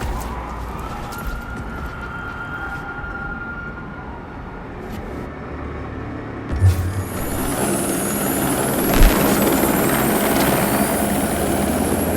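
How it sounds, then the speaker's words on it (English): Helicopter in the Watch Dogs 2 video game, a steady rotor drone that builds louder in the second half amid game ambience and a couple of brief thumps. "I do believe that is a helicopter."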